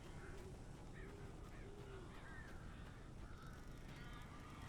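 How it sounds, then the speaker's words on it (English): A flock of crows caws repeatedly in the video game Alan Wake Remastered, faint calls scattered over a steady, dense background hiss. "That's a lot of damn birds."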